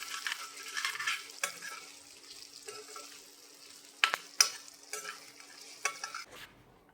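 Eggs being stir-fried in a pan for chicken fried rice: a continuous gentle sizzle broken by repeated scraping strokes and a few sharp spatula knocks, close by, ending abruptly.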